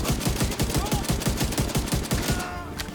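Rapid automatic gunfire from enemies in the shooter video game The Division, a fast, even burst of loud close shots that runs for a few seconds before easing off, with no voices over it.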